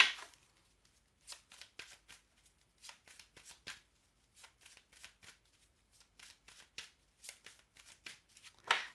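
A deck of oracle cards is shuffled by hand, then cut, giving repeated soft riffling bursts close by with no one talking.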